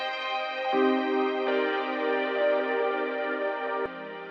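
A sustained, thick synthesizer pad holds rich chords that shift twice, smooth and continuous with no talking, ending in a softer held tone.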